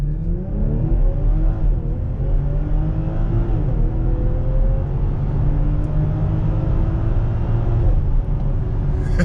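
A 2020 BMW X5 with an inline-six turbo engine accelerates hard from a standstill, its rising engine note climbing steadily through the gears in a loud, continuous roar heard from inside the cabin.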